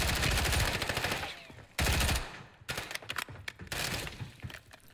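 Rapid bursts of automatic gunfire in the video game Warzone, loud close cracks in quick strings, then a pause and a scattered volley of sharper shots with some breaking-glass clatter.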